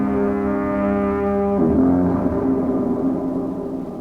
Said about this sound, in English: The foghorn.